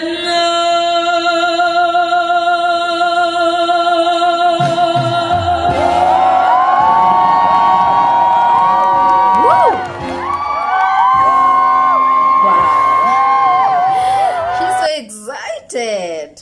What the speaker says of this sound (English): listening to people, you know, screaming out her name out loud